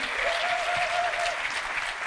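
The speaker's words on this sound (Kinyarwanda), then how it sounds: "Amashyi menshi cyane kuri afande wacu no ku ngabo zacu muri rusange, amashyi menshi cyane." Loud, dense applause from an audience at a talk event, honouring an army officer and the armed forces. Continuous clapping fills the whole moment with no pauses.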